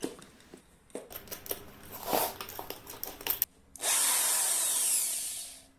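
Scattered clicks and taps give way to a power drill spinning a bolted-on ceramic tile disc, rising into a loud, steady whirring hum that gradually tapers off.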